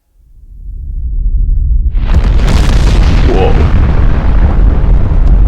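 A simulated nuclear explosion blast starts as a low rumble, then erupts into a loud, sustained roaring boom with a whooshing, crackling wash that stays at full intensity to the end.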